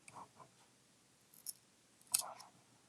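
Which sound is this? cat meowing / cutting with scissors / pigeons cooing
cutting with scissors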